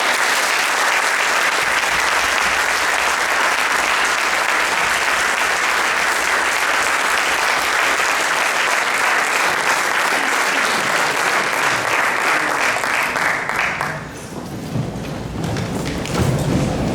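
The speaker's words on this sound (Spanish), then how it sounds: "como a Rogelio, como a Julio y como a José le brindemos un fuerte aplauso" Loud sustained applause from an audience, clapping steadily for about fourteen seconds before thinning out into scattered claps and crowd murmur.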